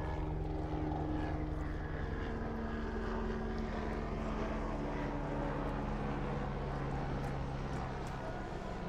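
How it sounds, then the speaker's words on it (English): Propeller aircraft passing over a baseball game at Pierce College, a loud continuous engine drone with a wavering pitch that fills the whole stretch and slowly shifts as it passes overhead. "We had a flyover."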